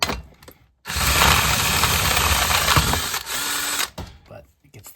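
An old DeWalt cordless drill whirs loudly and steadily for about three seconds up close, with a slight change in pitch before stopping, surrounded by quiet handling noise.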